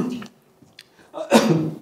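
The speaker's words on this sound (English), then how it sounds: "Dramatic cough." A single sharp cough bursts out near the mic during a lecture after a short pause, preceded by a brief murmur of speech.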